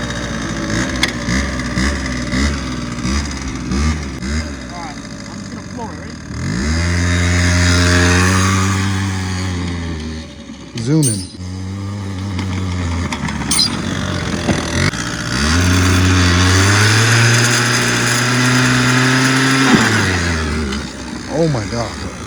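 An old, well-used scooter engine runs as it warms up, idling with a rough buzz and rising and falling in repeated revs, loud and close throughout.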